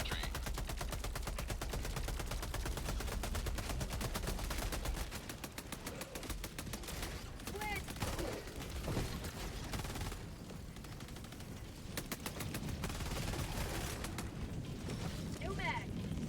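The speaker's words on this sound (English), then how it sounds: "Calling down a sentry." A deployed sentry gun in the video game Helldivers 2 fires bursts of rapid automatic gunfire, dense and continuous with short gaps, up close amid other game combat noise.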